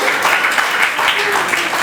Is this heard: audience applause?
yes